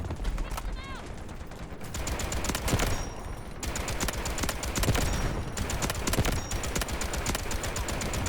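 Suppressed VSS rifle fire in the shooter game Delta Force comes in quick, rapid bursts with short gaps between them, loud and close, while a voice is heard at times.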